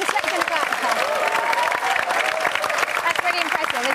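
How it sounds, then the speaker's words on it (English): A studio audience claps for rugby captain Rocky Clark, a steady, close patter of many hands with scattered sharp claps, and a voice speaks over the applause. "You can clap again now for Rocky Clark"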